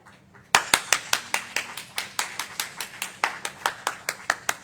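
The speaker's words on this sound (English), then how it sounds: "I hear y'all clapping online." Close, steady rhythmic clapping by one person during a church talk, about four sharp claps per second starting abruptly after a quiet moment and continuing evenly.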